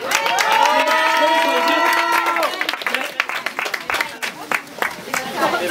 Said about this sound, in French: On peut applaudir Erwan, Claré, Héro et Evartil.